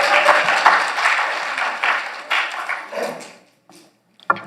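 Church congregation clapping during a Sunday service, a brief burst of applause that thins out and drops to near silence, with a couple of stray claps at the end.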